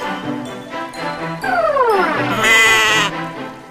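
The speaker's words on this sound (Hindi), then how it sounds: "आपने मंगवाई हुई बकरी।" A goat bleats loudly and close by in several wavering cries, the last one long and strained, with no voices around it.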